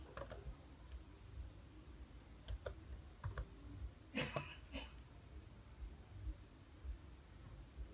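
Keys tapped on a Chromebook keyboard, faint quick clicks in short bursts and clusters over a quiet room hum, with no talking.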